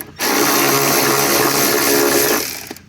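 A corded power tool spins out 8mm bolts on a car's wiper cover, one steady loud high-pitched whir lasting over two seconds before winding down, close up with no talking.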